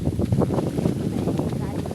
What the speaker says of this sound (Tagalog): Lakas ng hangin. Parang may bagyo na naman.